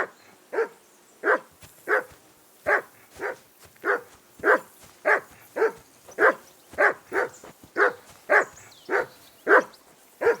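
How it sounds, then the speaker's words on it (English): A dog barks repeatedly in steady, evenly spaced bursts, about sixteen loud, close woofs over ten seconds in the medieval game Kingdom Come Deliverance 2, with no voices in between. "Call off that damn dog before he wolfs down the lives of our mates"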